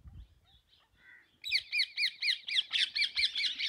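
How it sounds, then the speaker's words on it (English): Parrots drinking at water near Hinglajgarh fort in Bhanpura, Madhya Pradesh, give about ten sharp, rhythmic squawks in quick succession, close and clear, after a few softer chirps. "See, yellow, and some parrots are there."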